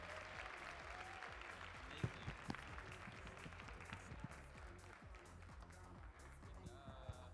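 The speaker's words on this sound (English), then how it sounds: "Let's clap for her one more time." Applause from an audience at a dance competition closing show honoring a dancer from Macon Dance Experience, a steady wash of clapping under faint background voices and music, moderately distant.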